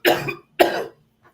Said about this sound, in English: And I would start coughing now.